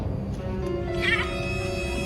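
A cat meows once after killing a rat indoors, a short mid-pitched call rising out of a steady low background hum, fairly close and heard alone without talk.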